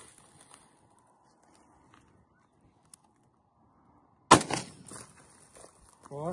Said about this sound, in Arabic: 40 متر راح نجرب اول طلقة بالعتاد العراقي